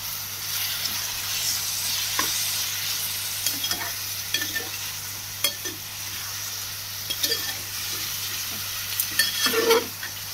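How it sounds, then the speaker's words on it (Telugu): Onions and small potato pieces fry in oil with ginger-garlic paste, salt, chili powder and turmeric, a close, steady sizzle with repeated stirring scrapes growing busier toward the end, and no voices. "అల్లం వెల్లుల్లి పేస్ట్, కొంచెం ఉప్పు, కారం, పసుపు వేసి ఆయిల్లో ఇలా వేపుకుంటున్నాం అన్నమాట"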